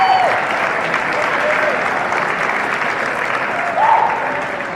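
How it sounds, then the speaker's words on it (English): Steady applause from a gathered audience honoring school officials, sustained and fairly loud throughout with a faint whistle-like tone sliding in near the start and end. "So let's give them a round of applause."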